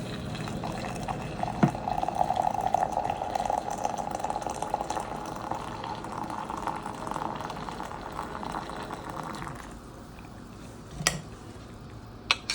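A Zojirushi electric water boiler dispenses hot water into a mug of instant coffee: a steady pouring stream runs for about nine seconds, then trails off into quieter sounds with a couple of sharp clinks near the end.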